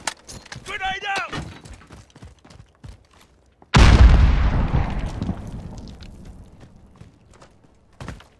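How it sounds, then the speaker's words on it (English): A grenade detonates in Call of Duty: Modern Warfare multiplayer, a sudden loud close blast midway with a long rumbling decay, after brief voice chatter and a few footsteps, with a short thump at the end. "Grenade out!"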